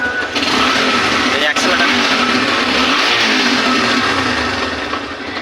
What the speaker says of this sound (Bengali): এই যে গাড়ি আমার চলছে সাউন্ড একদম খুব সুন্দর সাউন্ড